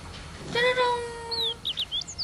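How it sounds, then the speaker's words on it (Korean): A sustained whistling tone is followed by a quick series of high, bright bird chirps, close and fairly clear. "새소리 들어볼래?"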